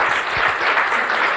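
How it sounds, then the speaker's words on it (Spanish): A church congregation applauds during a sermon, dense and loud clapping that fills the whole moment with an even, sustained roar. "Un aplauso por mi hermana, hemos estado orando mucho por eso."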